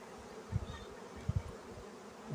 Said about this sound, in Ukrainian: Навіть по тому, як дістається основна, відразу відчувається, що багато бджіл.